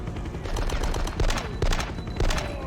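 Rapid automatic gunfire crackles in bursts in the video game Die Hard: Nakatomi Plaza, with dense overlapping shots and brief pauses between volleys.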